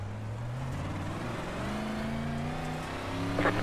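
A 358 modified race car engine at Weedsport revving up through rising gear pulls, a strong droning roar close by that climbs steadily in pitch, alone without talk.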